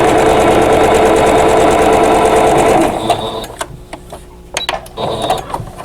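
A sewing machine stitches a quilt block seam, running loud and steady at close range for about three seconds, then stopping into a few quiet clicks and handling noises.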